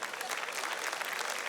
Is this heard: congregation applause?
yes